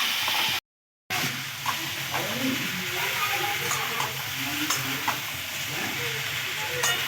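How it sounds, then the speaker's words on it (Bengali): Cauliflower and potatoes are stir-fried with spices in hot oil for a few minutes, giving a steady close sizzle with scraping stirs. A brief gap of silence breaks it near the start. "এবারে ফুলকপি আলু আমি ভালো করে 3 মিনিটের মতন ভালো করে কষিয়ে নিচ্ছি।"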